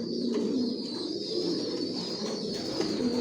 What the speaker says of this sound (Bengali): পেয়ার্স এখানে হচ্ছে সাদা রেসার, হোয়াইট রেসার।